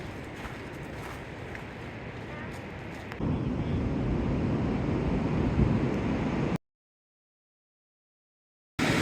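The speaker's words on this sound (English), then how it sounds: "We are at Rialto Beach today. It's beautiful. West Coast rocky beaches." Ocean surf breaks on rocky Rialto Beach in Olympic National Park, a steady roar with wind buffeting the microphone, swelling louder partway through before the sound drops out abruptly.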